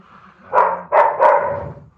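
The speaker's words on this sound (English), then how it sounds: "I hope they stop barking" Dogs at a home in Brazil bark three times in quick succession, loud and close, after a brief quiet moment.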